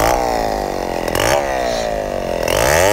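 A loud chainsaw runs close by, its engine droning steadily with a couple of rising revs as it bites through wood cutting 1x7x10 planks, continuous for the whole stretch.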